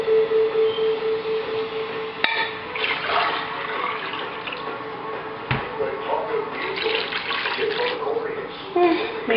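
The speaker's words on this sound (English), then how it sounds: "Okay, I'm going to add the water." Water pours and splashes into a cooking pot of sancocho ingredients on the stove, a steady rushing stream lasting several seconds, close and fairly loud, with a person talking over it.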